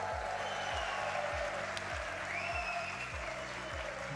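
Audience applause at a Rocket League watch party: steady, dense clapping and cheering from a large crowd, sustained and fairly loud for the whole stretch.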